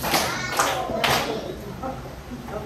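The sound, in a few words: class giving three claps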